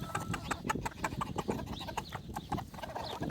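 On a cold day, a rooster calls his hens to a warm treat with rapid, repeated clucking, while nearby chickens cluck and scratch in a busy, fairly quiet flock.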